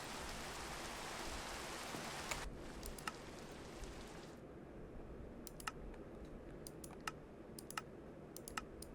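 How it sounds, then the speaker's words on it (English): Steady rainfall in the blocky survival game Minecraft, a broad even hiss that drops quieter partway through, with sharp repeated keyboard-like clicks scattered over it. "I hate the rain."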